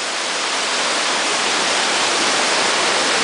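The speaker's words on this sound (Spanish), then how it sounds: "Ah, se oye la caidota de agua." A large waterfall pouring over rocks produces a steady, loud, broadband roar that continues unbroken throughout, with no voices.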